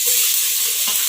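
Ginger garlic paste dropped into hot oil for a chicken biryani gives a steady, close hiss of sizzling with a brief louder burst near the end, and no voices.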